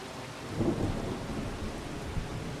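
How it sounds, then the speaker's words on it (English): Steady rain with low rumbling thunder in the video game Farming Simulator, a broad continuous wash of sound that swells slightly early on, with no voices. "I hear rain."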